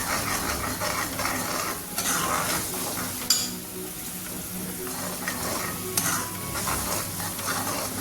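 Spices with chilli powder and a pinch of turmeric being stirred in a pan for Kerala inji curry, a steady scraping and sizzling that continues throughout, with a few louder clanks of the spoon against the pan.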